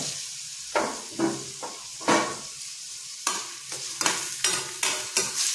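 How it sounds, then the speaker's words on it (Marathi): Tomato and onion with cluster beans are stirred in a steel pan, a loud sizzling hiss broken by repeated scraping stirs in an irregular rhythm, close by. "आणि व्यवस्थित आपल्याला हे मिश्रण परतून घ्यायचं आहे"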